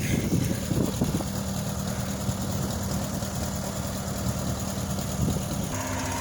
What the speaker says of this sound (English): Nice John Deere 1020 here,